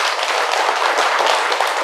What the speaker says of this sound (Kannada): ಜೋರಾಗಿ ಅವರಿಗೆಲ್ಲ ಒಂದು ಚಪ್ಪಾಳೆ ಕೊಡಿ.